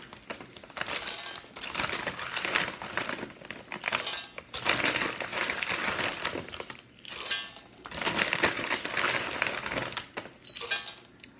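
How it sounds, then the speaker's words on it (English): Nestle semi-sweet chocolate chips pour into cookie dough in four separate bursts, each a bright, rattling clatter of small hard pieces lasting about a second, spaced by quieter stirring noise. "we're gonna add in about 2 cups of chocolate chips"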